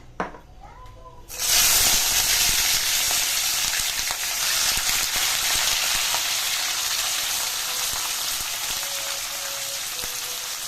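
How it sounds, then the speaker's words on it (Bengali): Vegetables hit hot oil in a pan for egg chow mein, bursting into a loud, close, continuous sizzle that stays steady and hissing, with someone briefly speaking before and faintly during it. "আমার তেলটা গরম হয়ে গেছে, আমি এই তেলের মধ্যে দিয়ে দেবো সবজিগুলো"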